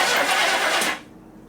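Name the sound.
car engine cranking and starting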